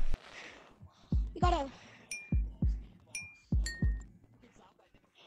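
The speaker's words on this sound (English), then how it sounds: "What's that heartbeat noise?" A game heartbeat effect in Capuchin: repeated thumping double beats, strong and close, with metallic clinks and ringing tones scattered among them and a person talking briefly at the start.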